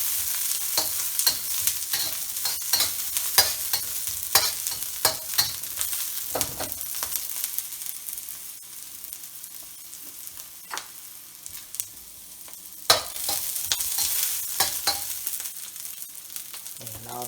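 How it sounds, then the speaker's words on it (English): Tofu, zucchini and mushrooms stir-frying in a pan, a continuous soft sizzle with frequent sharp scrapes and taps of the utensil, busier at the start and again toward the end. "I'm going to let it fry up for just about a minute or so."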